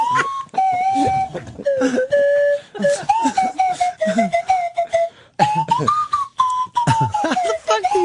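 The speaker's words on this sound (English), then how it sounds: "Bigfoot whistles the Star Trek song." A man whistles the Star Trek theme loudly and close by in a radio studio, a continuous wavering melody with brief pauses for breath.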